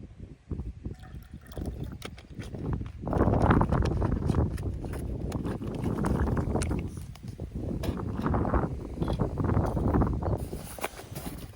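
Strong wind buffets and roars in surging gusts, rising and falling over several seconds, with faint water sounds and no talk, outdoors at a fishing spot out of town.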